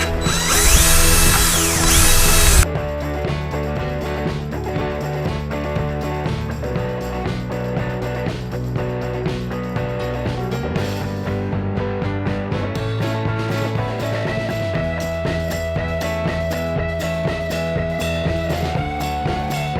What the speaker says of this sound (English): now I'm going to switch to a smaller polishing wheel and a drill.